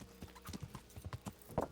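Hooves of a horse clatter in Kingdom Come: Deliverance, a rapid, uneven series of crisp, close knocks like a trot, with a slightly louder strike near the end.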